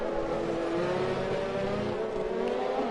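Racing car engines hum steadily while trailing a Ferrari around the Baku street circuit in a racing game, a sustained close engine drone with little change in pitch and no talk.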